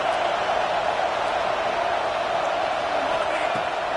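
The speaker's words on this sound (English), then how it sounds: "Listen to this crowd just shaking the girders of this place, trying to help their defense." A loud stadium crowd at a college football game between Texas and the Ducks roars steadily throughout, a dense sustained wall of cheering with no clear breaks, heard without commentary over it.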